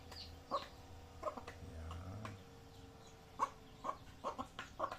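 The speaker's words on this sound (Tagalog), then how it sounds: "Bagong labas niya ng sisiw niya." A native hen with newly hatched chicks makes soft clucks, and thin high peeps come repeatedly through the quiet, close-up scene.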